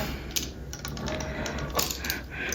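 Puff pastry dough for vegetable puffs being cut, a run of faint, close scraping and ticking sounds over a low background hum, with no talking.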